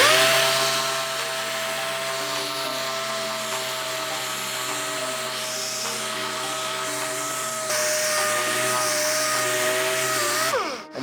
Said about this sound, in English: you select your correct sanding disc, and you go over the grinding.